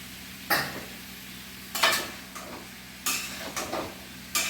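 Cauliflower hits a hot pan with spices and is stirred, giving several short sizzling bursts with scraping in between and no talk.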